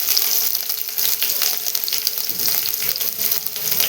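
Curry leaves, chili and onion hit hot oil in a pan while Maggi noodles are being cooked, giving a loud, dense, continuous crackling sizzle with faint stirring clicks over it and no talking.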